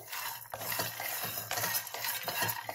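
A spoon scrapes and stirs cardamom and cashews roasting in a hot pan, with a steady sizzle under repeated close, gritty stirring strokes.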